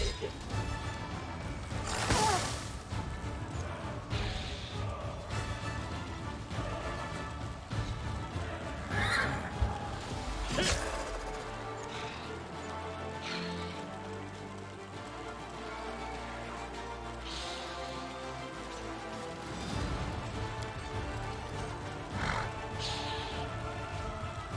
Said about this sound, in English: Some horse on horse battle here.